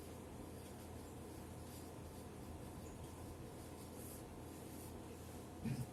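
Pen or pencil scratching and rubbing across paper while a force polygon is drawn by hand for a lecture on balancing rotating masses, a faint continuous scraping with uneven strokes and a small tap near the end.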